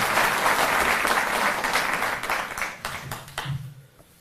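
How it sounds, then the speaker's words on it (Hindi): Loud, sustained applause from a crowd at a Delhi government event for farmers with damaged crops, steady dense clapping that gradually thins out toward the end, with a voice starting to speak. "एक बार जोरदार तालियों से।"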